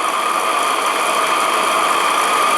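A radio-controlled Anton T200 steam engine set with a water pump runs steadily, giving a loud, even mechanical whir and hum with no change in pace and no talking.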